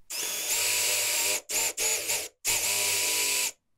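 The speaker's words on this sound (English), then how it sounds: "I'll drill the holes for the finger pulls using a Forstner bit." A power drill with a Forstner bit whirs loudly at high pitch in several bursts, separated by short pauses, boring finger-pull holes in a shop cabinet.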